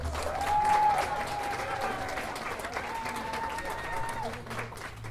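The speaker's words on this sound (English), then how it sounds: "Give her a round of applause." Guests at a wedding break into sustained applause, a steady wash of clapping heard alongside a voice talking.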